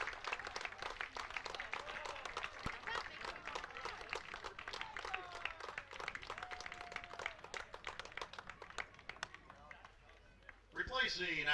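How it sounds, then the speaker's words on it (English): Crowd applause for first baseman Alex Carr at a high school baseball game, Northview at Terre Haute North Vigo, scattered clapping from spectators under an announcer's voice, with a louder burst near the end. "We're giving the Alex Carr a round of applause."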